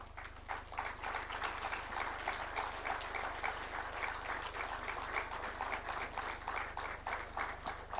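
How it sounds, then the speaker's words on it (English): An audience at a symposium at KICC in Nairobi applauds ambassadors and diplomats, with steady, sustained clapping from a large room heard at moderate distance over a low hum. "give them an applause and acknowledgement"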